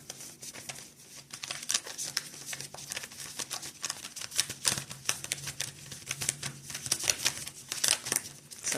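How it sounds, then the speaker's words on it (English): Tarot cards riffle and slap together in a soft, irregular patter, shuffled repeatedly at close range in an otherwise quiet room. "I'm having to like literally force these cards to shuffle"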